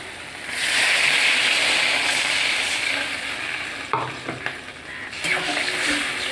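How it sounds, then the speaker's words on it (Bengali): Spice paste for a hilsa fish curry sizzles hard in a hot pan as water goes in. The loud hiss eases off, then a few clinks and stirring sounds follow near the pan. "এবার ঝোলের জন্য পরিমাণ মতো জল দিয়ে দেবো।"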